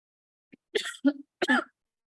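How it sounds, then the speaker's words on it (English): A few short, dry coughs and throat-clearing sounds from a lingering COVID cough, close and fairly quiet, separated by brief silences. "My COVID cough has not left me yet"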